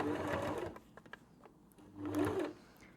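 A sewing machine stitches a short seam in leather for an upcycled tote bag, running in two close, brief bursts separated by a quieter pause with light clicks.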